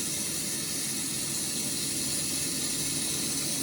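The bidet sprayer of a smart toilet seat sprays water in a steady, loud hiss that runs without a break and close up, with no talking.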